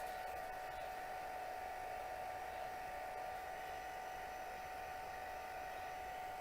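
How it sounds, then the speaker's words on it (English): A heat gun blows hot air across a handmade card, giving a steady, even whoosh with a faint whine on top that stays at a constant level throughout and has no talk over it. "Don't hold the heat gun too much in one spot."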